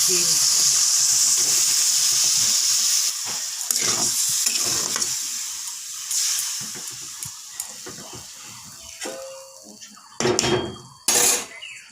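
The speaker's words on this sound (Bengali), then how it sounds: "কিছুক্ষণ হালকা জল দিয়ে এটাকে কষিয়ে নেব আর এটা ঝোলঝোল হবে না এটা কষানো হবে জল দিয়ে" A vegetable curry is stirred and sautéed in a pan with a little water, giving a steady sizzle with scraping and clinking of a utensil against the pot, loud at first and then quieter with intermittent knocks.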